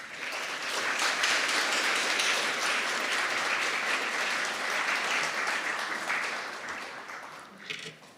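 Sustained applause from a summit audience on geoeconomics, steady dense clapping filling the room for several seconds before tapering off near the end.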